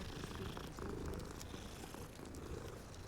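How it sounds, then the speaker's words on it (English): A cat's meow voiced in the video game Hogwarts Legacy, heard as a steady purring, rumbling tone running throughout with no talk over it. "That's supposed to be a meow?"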